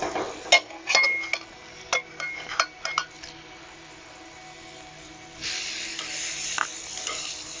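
Steaks set down on a hot ash-fired grill for a July 4th cookout, metal clinks and scraping of grill tools first, then a soft steady sizzle rising after a quiet stretch.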